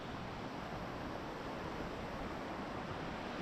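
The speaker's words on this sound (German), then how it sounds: "Geiler Wasserfall." A steady, dense rush of falling water from an alpine waterfall along a mountain hiking trail, loud and constant with no breaks and no voices.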